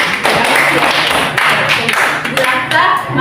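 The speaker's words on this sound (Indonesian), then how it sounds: "tepuk tangan untuk teman" Classmates in a trigonometry class clap their hands for a fellow student, a short burst of scattered, uneven claps and taps in a classroom, with voices mixed in.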